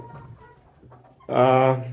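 Soft low murmurs, then a loud, drawn-out squawk from a laying hen close by, rising suddenly and holding for about half a second.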